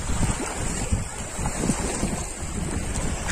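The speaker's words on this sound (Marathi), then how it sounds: "खूप दिवसांनी हा लाटांचा आवाज असा ऐकायला येतोय" Waves lap and wash against the shore of the Morbe dam reservoir, close and rhythmic, while heavy wind buffets the microphone with a low rumble and no one speaks.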